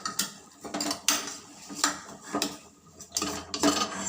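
A metal spoon stirs garam masala and pepper powder in a pan while making pasta, giving about half a dozen sharp scraping clatters in an uneven rhythm, close and moderately loud, with no voices.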